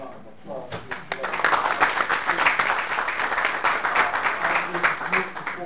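A roomful of people at a community forum breaks into dense, sustained applause that swells after a brief pause and keeps going at an even level, slightly muffled.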